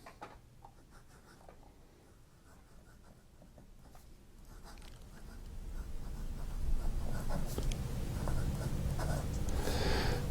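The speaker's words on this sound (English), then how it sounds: "Here we go with a writing sample." Delta Israel 50 Year Anniversary fountain pen, nib gliding over paper in a writing sample: a soft, continuous scratchy rustle with small strokes, faint at first and growing louder and steadier toward the end, with no voices.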